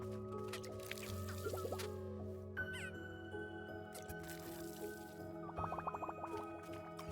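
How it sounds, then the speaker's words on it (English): Birds being watered in the cozy video game Wanderstop: soft, close water drips and liquid plinks fall in small clusters over a quiet, sustained ambient drone, with no talking. "can I water the birds?"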